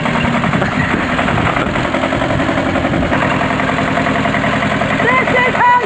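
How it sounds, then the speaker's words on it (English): A tractor engine runs steadily as the machine moves forward, a continuous low mechanical drone with vibration, loud and close, while people talk and shout excitedly over it. "I'm going to attempt to move the tractor forward"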